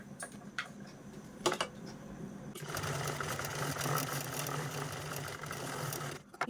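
A domestic sewing machine runs in a quiet room, stitching a pressed topstitch on a small piece of blouse fabric, with a few separate clicks at first and then a steady, continuous whirring run for several seconds.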